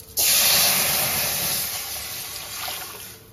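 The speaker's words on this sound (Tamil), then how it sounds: "கரைச்சி வச்ச புளி எடுத்து வச்சுக்கோம்." Tamarind water hits a hot tempering of oil, chillies and curry leaves, bursting into a loud sudden hiss that slowly settles into a steady bubbling sizzle.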